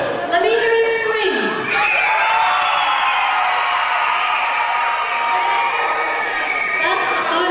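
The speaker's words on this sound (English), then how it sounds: "Let me hear you scream." Children in a gym for a 1997 Sunday school ministry scream together in one long, loud, sustained roar after a short shout, the echoing crowd noise holding for several seconds.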